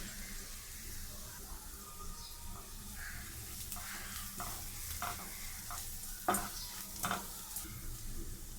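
Onion frying in a pan with a soft, steady sizzle and a few light stirring knocks, fairly quiet overall.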